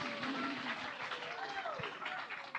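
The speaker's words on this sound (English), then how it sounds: "Thank you for clapping" Audience applause at a cheese talk after a California cheddar wins a gold medal, steady broadband clapping lasting a few seconds with voices and cheers mixed in.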